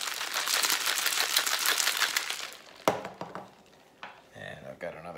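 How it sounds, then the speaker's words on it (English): Cocktail shaker packed with ice and grapefruit juice, shaken hard for a Brown Derby: about two and a half seconds of dense, continuous rattling, then scattered clinks and knocks as it settles. "all this is going to get shaken pretty aggressively here"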